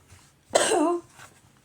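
One short, harsh cough rings out close by, a single burst in an otherwise quiet moment.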